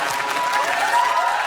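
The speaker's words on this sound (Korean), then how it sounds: "잠시 잊혀졌던 개그맨에게 보내는 응원의 박수" Audience at a Korean comedy stage show breaking into a dense, steady wash of clapping, loud and close, with a faint crowd murmur underneath throughout.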